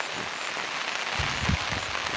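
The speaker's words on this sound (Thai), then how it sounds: "น้ำขึ้นไหลฝนก็ไม่ยุดตกเลย" Heavy rain pours steadily onto surfaces near flowing floodwater, giving a dense, continuous hiss with scattered drop patter and some low splashing and gurgling, heard with no voices over it.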